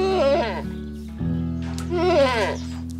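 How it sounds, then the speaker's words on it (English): A goat at an animal sanctuary gives two long, loud, wavering bleats close by, over a steady low background hum. "But the grammar is somewhat simple compared to bleating"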